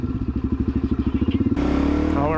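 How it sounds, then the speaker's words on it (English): A Suzuki DRZ motorcycle engine, close by and loud, chugs in a fast, even pulse at first, then revs hard into a sustained, rising roar. "This is the fastest motorcycle I've got."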